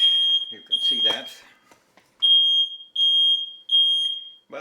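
A smoke alarm, set off by molten plastic in a micro apartment, beeps in loud, piercing, evenly spaced bursts, about five in all, with a voice talking over the first couple of beeps.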